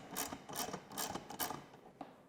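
A hand ratchet works on the front bulkhead bolts holding the bumper and plastic on a Polaris 850, giving about five bursts of quick ratcheting clicks up close with short pauses between.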